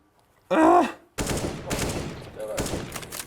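A short whistling, groan-like tone is followed by a sustained burst of rapid rifle fire in a shooter game, dense and loud for about two seconds, with faint vocal sounds mixed in.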